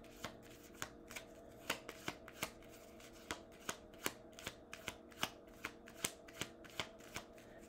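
Tarot cards being shuffled by hand close up, a steady run of soft crisp snaps and riffles, quiet and evenly paced over a low background hum.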